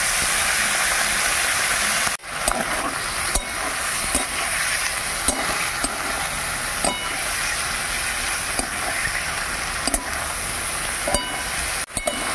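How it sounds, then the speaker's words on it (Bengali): Oil fries steadily in a pan with a dense, continuous sizzle and hiss, broken by occasional soft clicks of stirring, close and alone with no talk. "তেলটা একটু ভাজা ভাজা করে নিলাম।"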